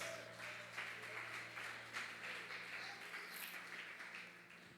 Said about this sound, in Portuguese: E você aplaude ao Senhor Jesus.